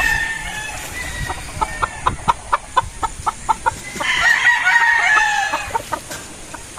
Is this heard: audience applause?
no